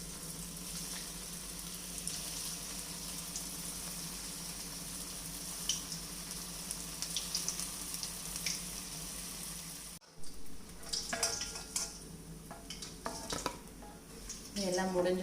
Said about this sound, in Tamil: இருக்கிற பேலன்ஸ்லையும் நான் இதில் போட்டு பொரிச்சு எடுத்துடுறேன்